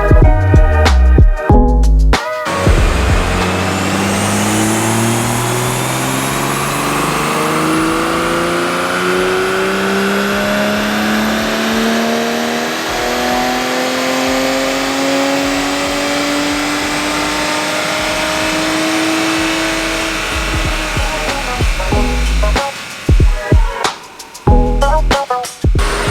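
A stock 2020 Toyota A90 Supra engine on a dyno pulls hard through a long wide-open run, its loud exhaust note climbing steadily in pitch for about twenty seconds before lifting off and burbling back down.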